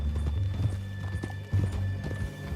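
Horse hooves clip-clop in a steady walking rhythm in the video game Red Dead Redemption 2, close and clear over low ambient game sound, with no voices.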